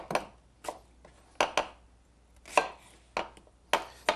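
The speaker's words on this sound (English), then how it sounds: "Onions, we slice them, put it in." Onions being sliced with a knife on a cutting board while preparing tarte flambée: about eight crisp, close chopping strokes in an irregular rhythm, with no talking.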